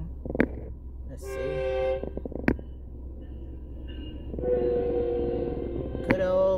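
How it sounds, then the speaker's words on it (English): A Metrolink commuter train passes close by, its horn sounding in two sustained blasts over a low rumble, with sharp clanks and a voice talking at the start. "the train's coming from the left side over that away"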